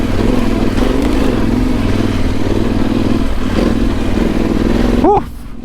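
A Yamaha Tenere Rally motorcycle ridden off-road through loose ground on a trail, its engine droning steadily and close for several seconds before cutting away abruptly near the end, with a faint voice beneath.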